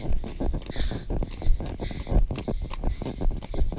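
Hooves of a horse with PSSM type 2 clip-clop in a steady, quick trot on a hard surface, close by, with light wind noise in the background.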